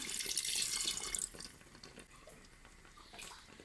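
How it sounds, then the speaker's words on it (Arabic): Water pours from a kitchen tap while Tunisian pasta sauce is being made, a soft splashing rush that is strongest at first, then thins to a quieter trickle. "لان انا باش نصب 2 لتر ماء."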